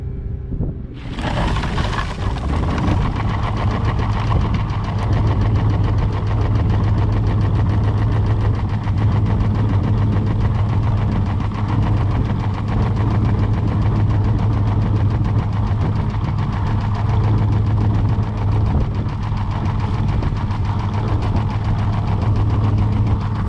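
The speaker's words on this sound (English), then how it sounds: "So we get this tractor warmed up" A tractor engine starts and settles into a steady, loud idle close by, running continuously as it warms up, with a deep even drone and a faint knocking rhythm.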